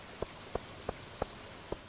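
Rain falling in the farming video game Stardew Valley makes a steady soft hiss, with five evenly spaced light taps over it.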